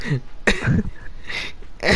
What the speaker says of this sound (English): you made me laugh in the middle of uh, of, of clearing my throat